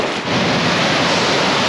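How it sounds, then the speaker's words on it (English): A roaring waterfall on a Wisconsin trail, about a twelve-foot drop, gives a loud, dense, steady rush heard close up, with buffeting wind noise on the mic. "There's a waterfall."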